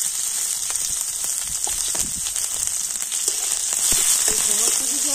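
Whole cumin, onion and two green chillies fry in hot oil for veg patties on a clay stove, giving a loud, continuous close sizzle with crackling pops throughout.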